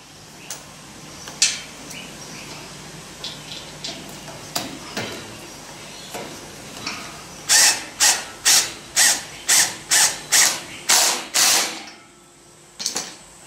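Power drill driving screws into timber while building a Victorian-style garden bridge, with scattered clicks and knocks at first, then a run of about nine short, loud, evenly spaced whirring bursts close by.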